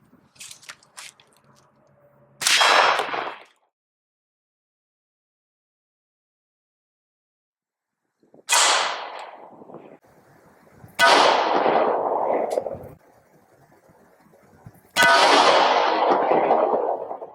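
Four loud, sharp gunshots strike a Level III ATC Spartan AR500 steel body armor plate outdoors, each a sudden crack with a short rumbling tail, separated by several seconds of near silence.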